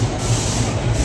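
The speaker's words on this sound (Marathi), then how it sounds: "चला लागली जोराला रेल्वे बघा आता" A passenger train near Pune gathering speed on the rails makes a loud, dense, continuous rumble and roar, heard close up from inside, with no talking over it.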